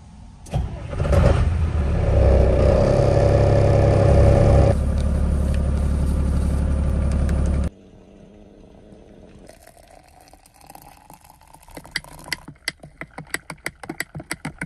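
A truck engine cranks and catches loudly, runs at a strong steady idle for several seconds, then cuts off, leaving quieter background noise with scattered clicks and taps.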